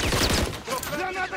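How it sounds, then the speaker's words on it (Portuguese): Rapid gunfire bursts crackle through a Call of Duty: Modern Warfare 3 multiplayer match on PS5, a quick loud fusillade lasting just over a second with a voice speaking over the shots. "Estão atirando em mim."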